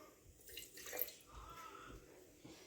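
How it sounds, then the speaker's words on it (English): Water poured into a sourdough starter jar sitting on a kitchen scale, a faint, brief trickle and splash that rises and fades over a couple of seconds in a quiet room. "add 60 grams of water"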